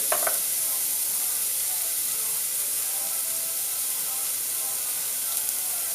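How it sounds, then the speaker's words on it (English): Leeks sizzling in a pan as they are stirred to coat in fat, an even, close hiss of frying with a brief scrape near the start, no talking. "Give it a little stir around to coat the leeks"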